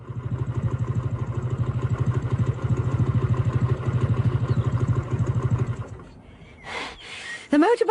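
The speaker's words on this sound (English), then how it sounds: "The motorbike I'm sitting on is a very special one." Motorcycle engine idling up close with a steady, fast, rhythmic low putter for about six seconds, then cutting away to quieter sounds and a brief voice.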